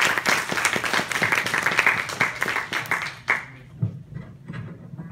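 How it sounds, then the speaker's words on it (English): Audience applause for a speaker at a craft beer trends talk: a burst of dense clapping for about three seconds that quickly thins to a few scattered claps and dies away. "So give a big round of applause for JJ."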